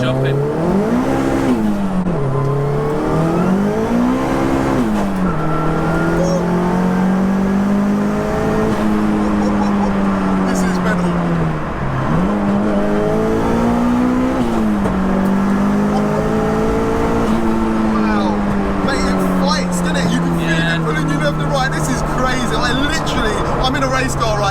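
Tracked-out 522 bhp Audi A3 1.8T engine revving hard at full throttle from inside the cabin, a loud sustained drone that climbs and dips through gear changes, with people talking over it.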